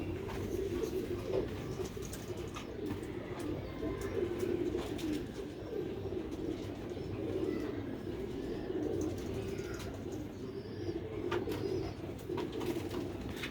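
Pigeons on a rooftop coo in low, soft, rolling calls that repeat across a steady murmur, moderately close, with faint sounds of activity around them.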